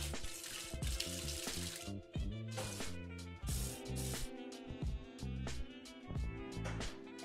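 Kitchen tap running as something is rinsed out, a bright continuous hiss of water spray over a background of loud music, with no talk.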